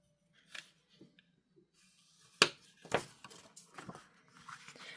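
Scored cardstock for a fun fold card is creased and pressed flat, a few sharp papery snaps and rustles at irregular intervals, close and fairly quiet with no talking.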